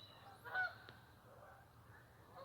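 A single faint honk from a Canada goose sounds in the distance in the morning, briefly rising above a quiet, steady outdoor background.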